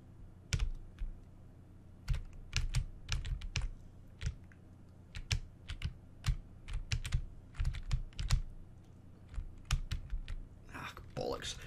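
Steady, irregular taps on a computer keyboard during a game of Donkey Kong Reloaded on a Spectrum, sharp close clicks coming in quick runs throughout, with a brief murmur of voice near the end.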